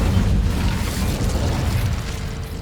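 An Incendio fire spell is cast in Hogwarts Legacy, a loud, dense whooshing burst with a roaring low rumble that holds steady for a couple of seconds without any talk.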